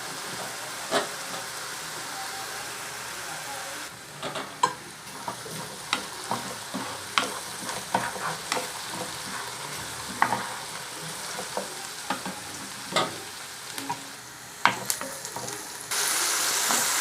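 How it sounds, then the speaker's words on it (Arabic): Onions, garlic and green peppers sautéing in a pan for an Egyptian family breakfast of fava beans with tomato: a steady, fairly soft sizzle with scattered sharp crackles and pops throughout, and a brighter hiss swelling at the very end. "كده شوحنا البصل"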